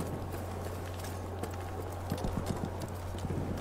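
Soft clip-clop of horse hooves in Battlefield 1, a quiet run of light, irregular hoof beats that picks up near the end over a steady low game hum.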